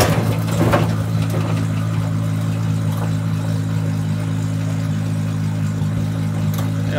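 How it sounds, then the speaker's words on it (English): 2JZ-swapped Dodge Charger, heavy and lowered, its engine droning steadily at elevated revs with a few sharp bursts early, close and loud, no voices over it. "the 2J doesn't make any torque down low, so you have to rev it up a lot to actually get moving in a car this heavy"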